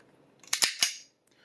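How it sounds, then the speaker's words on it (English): Close, sharp metallic clicks, three in quick succession, from dry-firing the trigger of a .22 WMR rifle in a quiet room, then near silence and one faint tick. "You heard 2 clicks. That was just me releasing it."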